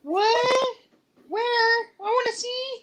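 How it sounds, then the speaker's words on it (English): A house cat meowing loudly nearby in three drawn-out, tonal calls, with a person speaking briefly over them. "I'm sorry, that's my cat."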